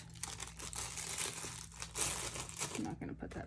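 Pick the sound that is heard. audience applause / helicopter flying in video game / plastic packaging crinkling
plastic packaging crinkling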